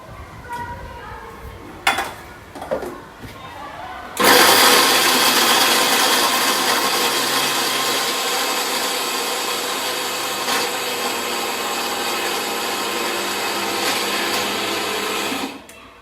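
An electric kitchen grinder pulverises fried churma dough for laddoos, starting abruptly after a few knocks and running as a loud, steady whirring roar for about eleven seconds before cutting off.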